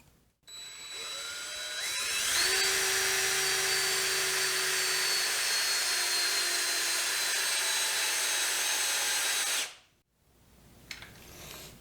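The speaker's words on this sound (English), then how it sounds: "you're going to want to keep the drill spinning the whole time until you're done" A power drill spins a carbon fiber rod against a 3D printed plastic part for friction welding, a loud steady high whine that starts after a brief rev-up, holds for about seven seconds, then cuts off.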